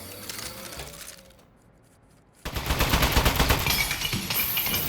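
Rapid turret gunfire in the video game Aperture Desk Job bursts in loudly after a brief lull, a dense, steady machine-gun rattle that continues to the end, preceded by softer mechanical whirring.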